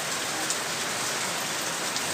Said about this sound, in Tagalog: Basang-basa ka ulan, no? Lakas. Diretso pa rin buhos.